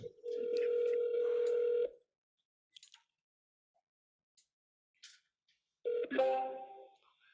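Telephone on a real estate cold call: a steady dial tone for about two seconds, a few faint clicks and beeps during a quiet stretch, then a louder burst of ringing tones near the end.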